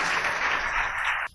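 Loud, dense applause from a crowd honouring saints at a religious discourse gathering, steady for just over a second and then cutting off abruptly.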